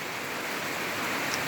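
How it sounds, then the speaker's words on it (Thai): Rain falls steadily outdoors near a field hut, a continuous even hiss with no voices. "มีฝนตก"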